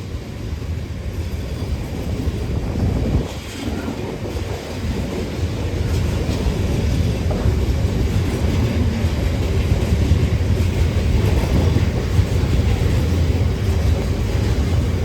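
A Class 66 diesel locomotive passes on the Northumberland line, giving a loud, sustained rumble of wagons rolling by, with wind buffeting the outdoor microphone throughout.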